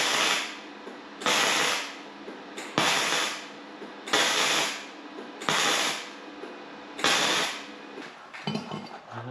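Spot welding on the bodywork of a Peugeot 106 being converted to BMW rear-wheel drive, heard as six evenly spaced sizzling bursts of about a second each, close and crackly, with short gaps between.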